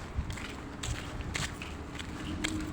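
Footsteps of people walking through a quiet residential village, a few soft steps at an uneven pace against a steady low background hum.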